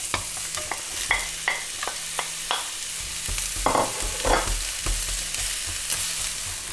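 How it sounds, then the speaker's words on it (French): Onions and bacon pieces frying in a pan, a steady close sizzle broken by repeated stirring scrapes and clicks of a utensil, with no talk. "Et on va faire cuire les oignons"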